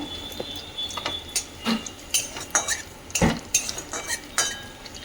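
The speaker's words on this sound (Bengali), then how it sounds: "তেজপাতা একটা দারচিনি শুকনো লঙ্কা একটা এলাচ গোটা জিরে দিয়ে এখন ওটাকে ভেজে নেব" Bay leaf, cinnamon, dried chili, cardamom and cumin go into hot oil. A faint sizzle plays under busy metallic clinks and scrapes from a spoon against the pan, close, with no speech.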